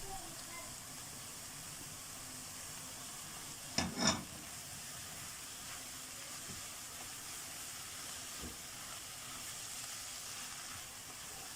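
Onions softening in a pan while an Egyptian-style egg tray dish is cooked, giving a steady, moderate sizzle and hiss throughout, with a brief clatter of utensils near the middle.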